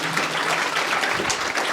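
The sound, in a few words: congregation clapping for Jesus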